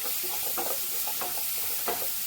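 Chaat masala and amchur being stirred through a frying pan of aloo capsicum, a soft gritty scraping in a few short strokes over a low background sizzle, close and quiet, with no talking.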